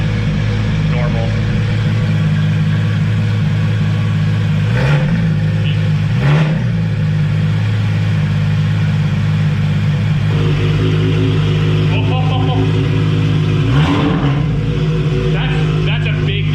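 A straight-piped Porsche GT3 exhaust drones loudly and steadily close by, punctuated by several sharp throttle blips and revs spaced through the stretch.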